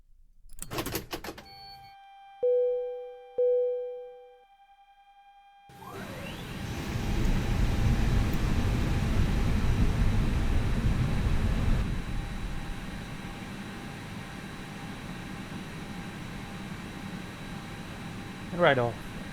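In a Flight Factor A320 flight simulator, a few electronic beeps and clicks, then a rising whine as the airliner's systems spool up into a steady, loud rushing hum of fans and air.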